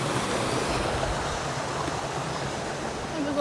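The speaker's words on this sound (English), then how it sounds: "Oh, a little waterfall." A small waterfall rushes steadily nearby in a forest, a continuous splashing hiss of flowing water.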